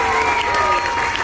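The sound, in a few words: audience applause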